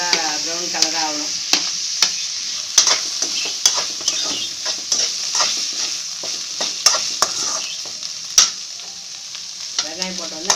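Onions frying in oil for crab gravy, a soft steady sizzle broken by frequent sharp scraping stirs of a spoon against the pan, with a few brief voice-like sounds at the start and end.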